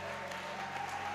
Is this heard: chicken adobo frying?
no